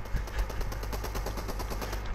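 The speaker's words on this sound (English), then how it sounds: "I wasn't shooting the guy, I was shooting her." Rapid automatic gunfire in the video game Fortnite plays as a fast, even stream of crackling shots, loud and continuous, with no voices.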